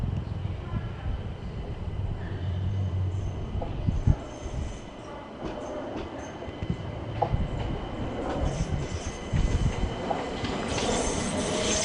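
A London Overground Class 378 electric train pulls into Clapham Junction, with wheel squeal, rail clatter and motor hum building close by over steady station ambience.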